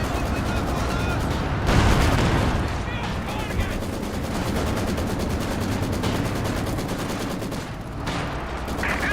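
An SU-85 tank gun fires in a video game amid a dense, continuous roar of battle gunfire and explosions, with a heavy blast standing out near two seconds. The barrage stays loud and close throughout.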